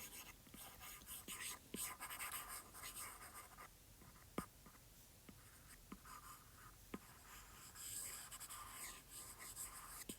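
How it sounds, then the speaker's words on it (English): An eraser rubs and scratches across a board while writing is wiped away, a soft continuous scrubbing with scattered faint clicks and taps, quiet and close, with no talk. "So I'm going to erase all this."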